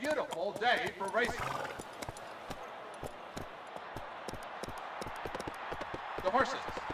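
Racehorses galloping on the track in the video game Gallop Racer 2003, with steady hoofbeats and a brief whinny under a race commentator's voice, plus crowd-like background noise.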